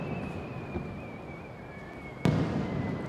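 Japanese summer fireworks rumble with a thin rising whistle, then one sharp, loud burst cracks near the end over a steady crowd-like background.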